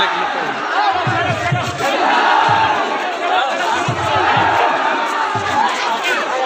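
Dense, loud crowd noise at the Jagannath temple during Bahuda Yatra, with continuous chatter and shouting and rhythmic drumming underneath.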